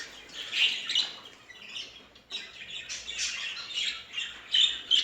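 Small birds in a pet bird shop at a market, chicks and adults chirping and squawking in a busy, overlapping chatter, moderately close and fairly quiet, with no talking.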